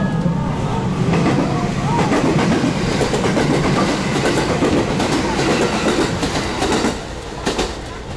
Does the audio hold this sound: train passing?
yes